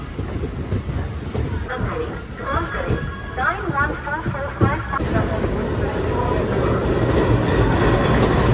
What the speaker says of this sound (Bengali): তো বন্ধুরা আমাদের ট্রেন ছেড়ে দিল উত্তরপ্রদেশের প্রয়াগরাজ জাংশন থেকে।